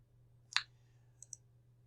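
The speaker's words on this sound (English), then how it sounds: "Click on OK." A sharp computer mouse click sounds once, followed by two fainter quick clicks, all close and isolated against a low steady hum.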